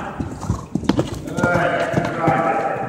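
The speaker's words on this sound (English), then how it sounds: "the horse has to get so good at just galloping down and down" Rhythmic clip-clop of a horse galloping on a ground surface, hoofbeats repeating close by, with a person talking over them and other ambient noise building underneath.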